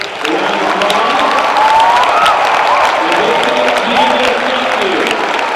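Loud sustained applause from the crowd at a school Veterans Day convocation, with cheering and voices mixed into the steady clapping throughout.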